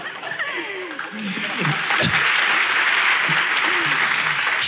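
A studio audience at a Turkish relationship quiz show breaks into loud, sustained applause mixed with laughter, while voices speak over the clapping.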